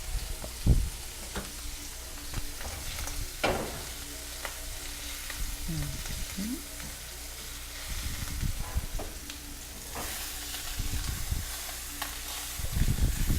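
Filet mignon steak seasoned with salt and pepper sizzles steadily in a pan, a constant close hiss broken by scattered clanks and scrapes of utensils as the meat is turned.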